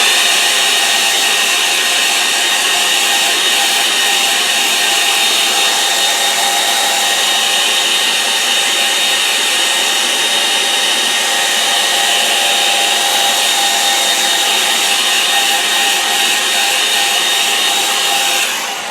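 A handheld paint dryer blows over an acrylic painting on watercolor paper, giving a loud, continuous close-up whirring drone with a steady high whine that runs unbroken throughout.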